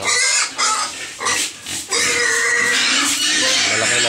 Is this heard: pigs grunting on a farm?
yes